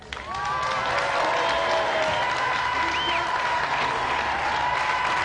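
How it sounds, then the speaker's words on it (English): Loud, sustained applause from a large television game show studio audience fills the room, steady and dense throughout, with a few faint voices mixed in. "Round of applause for them anyway."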